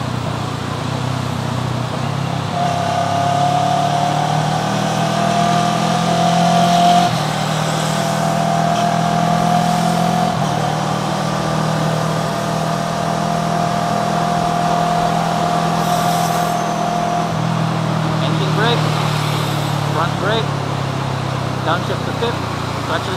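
A vehicle engine hums loudly and continuously on a suspension tuning test ride, its pitch sliding down and back up through engine braking and clutch downshifts, heard close with steady road and wind noise.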